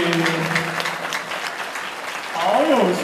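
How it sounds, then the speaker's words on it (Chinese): At a cosplay competition stage show, an audience breaks into a steady wash of applause that runs under a host speaking into the microphone. "掌声可以可以，"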